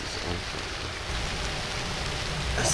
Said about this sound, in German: Es regnet, Mann.